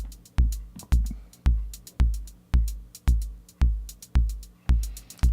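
Modular synth hi-hat fired by a mix of Euclidean and chance trigger outputs, running through a VCA on an envelope: a steady, irregular pattern of short, crisp, bright ticks over decaying low thumps, alone and fairly quiet.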